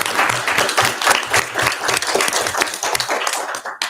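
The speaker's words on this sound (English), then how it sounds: "So please join me in a round of applause for them" A round of applause fills a school board of education meeting, many hands clapping briskly and loudly at close range before tapering off at the end.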